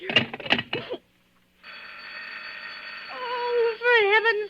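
Old-style telephone bell ringing steadily for a couple of seconds after a brief stretch of voice, then joined by a strained, wavering voice over the ring.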